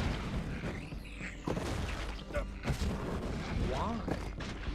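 Enemies firing at the player in the video game Journey to the Savage Planet: continuous rumbling gunfire and booms, loud and dense, with a voice talking over them.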